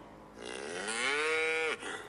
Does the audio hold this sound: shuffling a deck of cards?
no